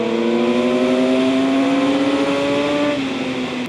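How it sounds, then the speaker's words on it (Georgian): A big sport motorcycle engine revs up steadily, its rising drone loud and close throughout, with no talking. "შენ რა კაი თორკი გაქვს, დიდი ძრავი რო გაქვს"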